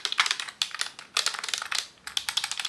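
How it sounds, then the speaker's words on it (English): Fingers type briskly on a Bluetooth computer keyboard, a close, clicky patter of keystrokes in bursts with brief pauses between them and no talking. "there's something that's just so fun about typing with this."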